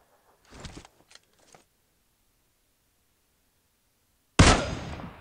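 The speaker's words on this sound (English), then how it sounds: "they're shooting at me" Gunfire in PUBG Mobile: a short burst of sharp reports near the start, two faint isolated shots after, then a loud close blast near the end that rings out and decays.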